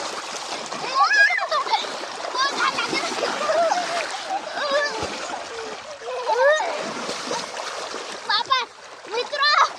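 Water splashes in the Narmada river as a child bathes, a lively churning spatter mixed with shouts and chatter from children and adults close by throughout.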